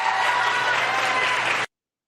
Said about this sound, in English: a rowdy crowd over there tonight